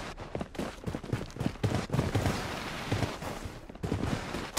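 Rapid, loud gunfire in a video game, dense overlapping shots and bursts crackling continuously with brief lulls.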